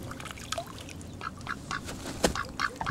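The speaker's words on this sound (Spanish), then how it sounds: "Ay, nos saluda el patito." Ducks quacking nearby outdoors, a handful of short nasal calls scattered over a few seconds with one louder call standing out, over light background noise and faint splashing.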